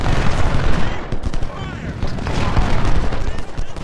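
Gunfire from cavalry in a Civil War battle video game, a dense continuous clatter of rifle shots and booms filling the whole moment at loud volume.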